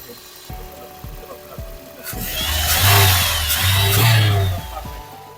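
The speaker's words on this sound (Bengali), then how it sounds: "আমি ইঞ্জিন সাউন্ডটা শোনাই আপনাদেরকে" A used Toyota Corolla X engine idles, then revs up loudly for a couple of seconds before easing back down to idle.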